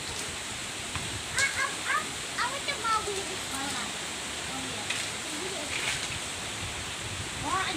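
Running water pours steadily while something is washed under it in a kitchen during egg recipe preparation, a continuous rushing wash with a voice talking over it throughout.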